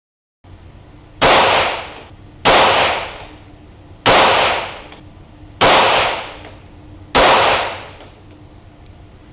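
Five sharp .22LR rifle shots fired with Top Shot ammunition as a five-round group, evenly spaced about a second and a half apart, each loud crack followed by a short decaying ring.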